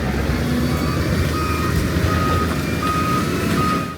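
A truck's reversing alarm beeps repeatedly over a rumbling engine and heavy road noise while it is loaded during road clearing operations on a mountain highway, loud and steady throughout.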